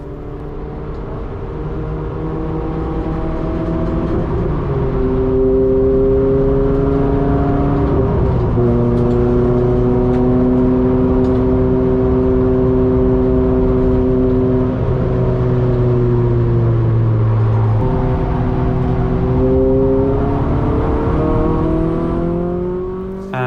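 Renault Clio 200 track car lapping the Brands Hatch circuit, its engine loud and close as it revs up through the gears, drops on shifts and braking, and climbs again.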